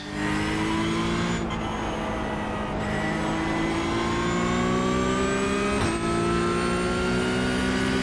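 A video game race car engine roars continuously at high revs, its pitch dropping slowly between brief gear-shift dips, loud and close with no talking.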